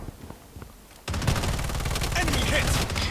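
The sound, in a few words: gunfire in a video game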